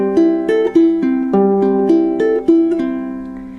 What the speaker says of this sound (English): The first is the pick in 6 strum,